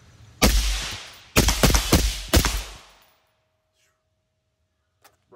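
A CZ Bren 2 rifle fires about six sharp, loud shots close by, one alone and then a quick uneven string, each with a short echoing tail before quiet.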